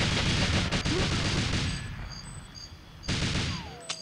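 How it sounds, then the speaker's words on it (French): Rapid bursts of machine gun fire from GoldenEye 64 rattle loud and close, pause briefly amid tonal game beeps, then resume in another dense volley. "C'est la mitrailleuse, là, qui me fait chier."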